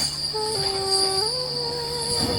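Train travelling at dawn toward Ernakulam on the way to Mattancherry, with a steady tonal squeal and whine rising and stepping in pitch over a low rumble.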